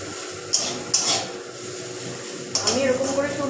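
Softened onions stirred in a pan for Bengali chicken kosha, a few distinct spatula scrapes and clacks against the pan over a low background hum, close and moderately loud.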